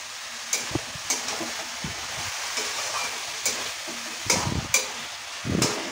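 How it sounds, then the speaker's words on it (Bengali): Soaked raw chickpeas are stirred in a frying pan over a steady sizzle, with repeated close scrapes and clunks of the spoon at an uneven rhythm. "ছোলাটা দিয়েও ভালো করে একটু ভালো করে নেড়ে চেড়ে নিচ্ছি।"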